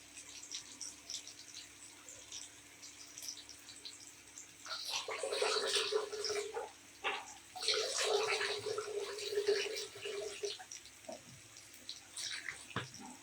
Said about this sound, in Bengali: তিনবার পরিষ্কার করে ধুয়ে নিলাম।